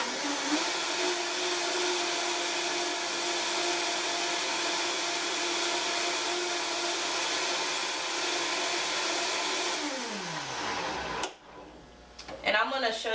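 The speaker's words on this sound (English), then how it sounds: "I think I'm going to blend it a little longer because I want it to be a little smoother" A blender whirs steadily while blending coconut yogurt, loud and constant, then winds down in pitch and stops, followed by a few faint clinks.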